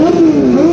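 A motorcycle engine revs loud and close at a moto fest, a strong tonal whine rising and falling in pitch over a brief, sustained burst.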